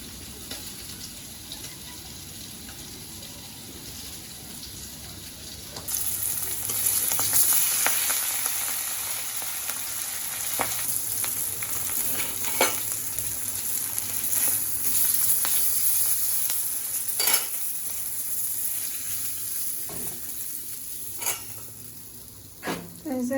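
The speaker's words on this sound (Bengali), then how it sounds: "এই যে এখন রসুন পেঁয়াজ কাঁচামরিচ আর গাজর সব একবারে দিয়ে দিলাম।" Garlic, onion, green chili and carrot hit a hot pan together and sizzle steadily, with repeated stirring scrapes and taps over the frying, close up and moderately loud.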